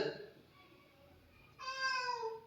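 A person speaks briefly, followed by a pause and then one clear, drawn-out cat meow nearby.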